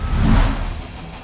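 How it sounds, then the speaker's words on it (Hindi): A Toyota Innova Hycross drives and accelerates, its engine rising in a low rumble with a brief whooshing swell early on before easing off, heard up close with no talking. "अब करते हैं इनोवा हाई क्रॉस की सवारी और जानते हैं कि ये चलाने में कैसी है।"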